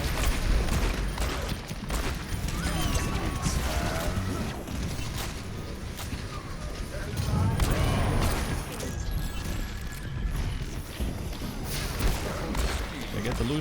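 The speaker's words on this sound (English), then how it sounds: "I'm just shooting randomly." Rapid gunfire from the Overwatch video game rattles on and off for about thirteen seconds among other loud game effects, with a person talking over it.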